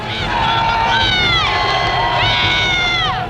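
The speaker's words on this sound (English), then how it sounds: "Listen to this crowd. They are bananas." A stadium crowd at a New York Jets football game roars and cheers loudly and continuously, with shrill whistles and whooping voices rising and falling above the din.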